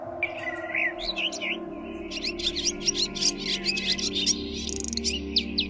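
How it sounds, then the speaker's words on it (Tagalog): Several birds chirp and tweet in quick bursts over a low steady hum on a provincial morning, fairly faint and continuous. "kasabay ng tilaok ng manok at huni ng iba't ibang ibon"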